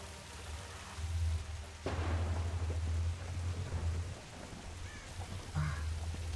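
Rain falls steadily in the Tomb Raider video game over a deep rumble of thunder that swells and recedes. The downpour is heard alone, at a moderate level.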